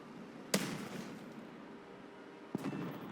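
Two bomb blasts from a Strikemaster Mk.88 jet in a flight combat game, each a sharp distant thump with a short rumbling tail, about two seconds apart and fairly faint, with no talking.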